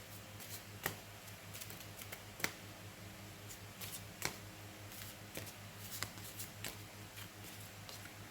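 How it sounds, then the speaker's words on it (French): Tarot cards are shuffled by hand with faint, close, irregular soft flicks and taps over a low steady hum, and no voices are heard. "je vais battre les cartes"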